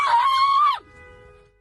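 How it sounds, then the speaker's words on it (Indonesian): Panicked passengers scream during an attack on their car by stone-throwers on a street in Menteng, Central Jakarta. One loud, high scream lasts under a second, then drops to a faint fading tail. "Suara ketakutan dan teriakan histeris penumpang"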